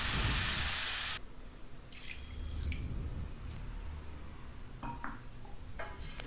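A short rush of mutton cooking water pours into frying masala in a hot pan, then gives way to bubbling and sizzling with a few clinks of utensils.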